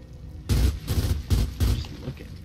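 Four heavy bursts of gunfire in Gears of War 4, loud and close, spaced roughly a third of a second apart, with a fading tail and no talking.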